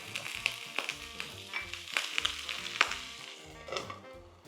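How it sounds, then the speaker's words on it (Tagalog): Gyoza dumplings sear in hot oil in a pan, then take added water to steam. A dense, steady sizzle and crackle runs throughout, with sharp pops and spits scattered on top and a brief hissing surge near the end. "let that sear a little bit with a little bit of oil, and we add water for it to steam"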